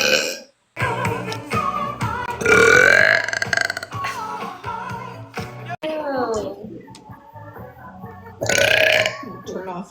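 Loud, drawn-out burps from a woman during a livestream, several long croaking belches in a row with brief pauses between them, and a voice and other chatter breaking in at times.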